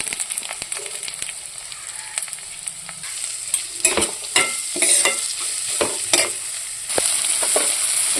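A spoon stirs ginger and sambar masala in a sizzling frying pan while preparing a potato filling for masala dosa, giving steady close scraping and frying sizzle with sharper scrapes through the middle and a louder sizzle near the end.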